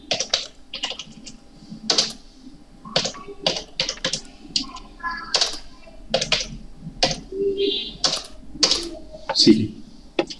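Someone types on a computer keyboard while working in AutoCAD, with crisp, close key clicks in short irregular runs and someone talking over and between them.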